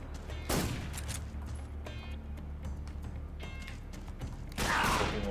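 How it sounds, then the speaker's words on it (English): A revolver chamber being loaded with bullets, with metallic clicks, ratcheting and creaks against a constant background hum, plus louder rustling bursts near the start and end. "You're revolving the chamber as you put the bullets in."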